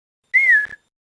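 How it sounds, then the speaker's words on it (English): A person whistles a single clear, sustained note that drifts slightly downward. It is close and isolated, with silence before and after. "Give a little whistle."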